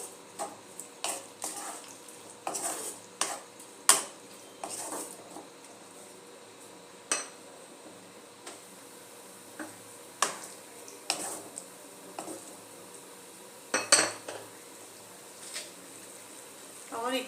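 Poppy seed paste being stirred into a Bengali ridge gourd and potato curry in a pan, with soft scraping and clinking of a spoon against the pot in irregular bursts, under light background noise.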